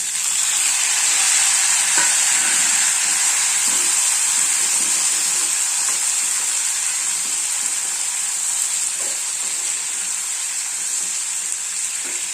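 Tomatoes frying in a pan with lentils (urad dal and chana dal) and curry leaves for a no-coconut tomato chutney, a steady loud sizzle and hiss throughout with occasional faint stirring scrapes.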